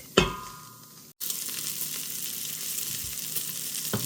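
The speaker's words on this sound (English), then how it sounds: "Okay, I've got my bacon cooking real nice here." Bacon frying in a pot for Zuppa Toscana: a sharp clank and a short sizzle, a brief gap, then a steady, close, bright sizzle with occasional stirring scrapes, no voices.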